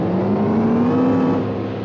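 Car engine custom-designed by Raymond Loewy for his own use, a steady droning hum with a slowly rising whine, holding at constant loudness throughout with no voices.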